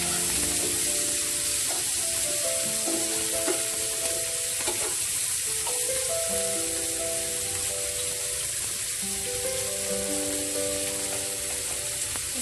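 Sliced onions, about a cupful, sizzle and crackle steadily in hot oil in a pan for a fish dopeaja. The frying is loud and continuous throughout, with faint stirring clinks and no speech.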